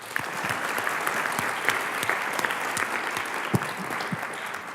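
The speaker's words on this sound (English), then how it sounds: "We'll get a little round of applause for D.E." An audience at the MIT Battlecode 2014 final tournament claps steadily for a sponsor's representative, with moderate applause holding from start to finish and a few louder individual claps standing out.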